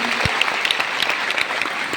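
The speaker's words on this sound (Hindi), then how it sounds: "इस क्षण के लिए मैं चाहूंगा एक बार आप जोरदार तालियां जरूर बजाएं।" A seated audience gives strong applause at a talk about an inauguration, a continuous, even rattle of many hands at moderate loudness lasting about two seconds.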